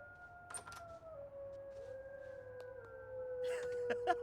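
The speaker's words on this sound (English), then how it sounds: "Who's howling?" A werewolf howls in The Sims 4, a long, wavering tone that slowly bends downward and holds for several seconds. It sits clearly over quiet background sounds.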